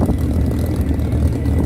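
An AP-3C Orion four-engine turboprop in an air show flight display gives a loud, steady propeller drone with a low rumble throughout, with no voices over it.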